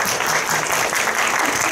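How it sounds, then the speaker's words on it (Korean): A theater audience at a post-screening talk claps warmly for a cast member, a brief burst of close, dense applause that stays steady and loud for its whole length. "박수 주시겠어요?"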